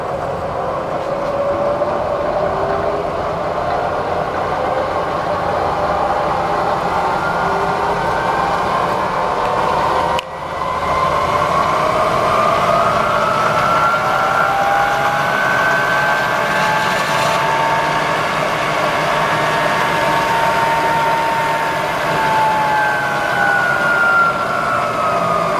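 A 2 hp Bridgeport Series II Special milling machine runs at low speed in a shop, producing a loud, steady motor and drive drone with whining tones that drift up and down and one brief dip midway.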